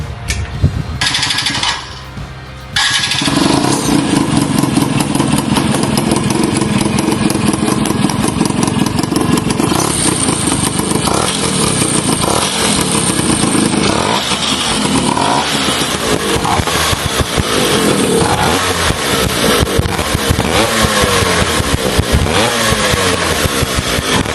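An old rusty Vespa scooter fitted with a Yamaha Mate 111 engine cranks over and fires. It then settles into a loud, close, continuous rattling two-stroke idle with slight revving that lasts the rest of the way.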